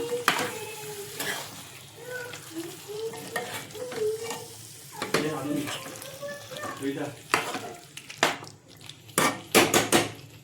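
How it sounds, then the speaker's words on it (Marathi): Methi chicken in gravy being stirred in a pan, with repeated scraping and clattering strokes of a spoon against metal over a low simmering sizzle, fairly close and uneven in rhythm, no talk. "यावर रस्सा टाकायचा परत हे मिक्स करून घ्यायचं"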